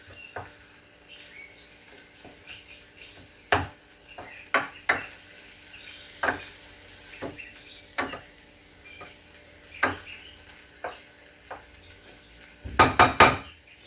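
Taco meat browns in a pan with a low sizzle, broken by scattered sharp clinks and scrapes of a utensil against the pan and a quick cluster of knocks near the end, close by with no talking.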